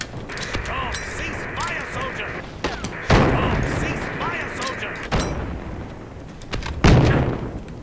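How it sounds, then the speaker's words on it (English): Grenades in the video game Project Reality burst as several heavy booms amid bursts of gunfire, loud and close, with voices talking over the battle. "That was a grenade. Oh fuck. I got hit by a grenade."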